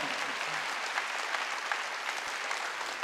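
Congregation clapping at a Wednesday church worship service, a steady dense patter of many hands from start to end with no voices over it.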